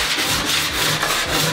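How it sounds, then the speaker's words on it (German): Metal file drawn lightly with no pressure across a crash-damaged Porsche GT3 RS body panel during repair, a steady close rubbing rasp in continuous back-and-forth strokes with no voices. "wir wollen einfach nur sehen, wo liegt unsere Feile auf und wo ist das Material noch zu tief"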